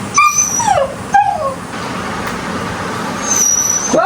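A dog whimpers and yips in high, sliding cries, a few short bursts near and clear, over steady traffic rumble from trucks in the background.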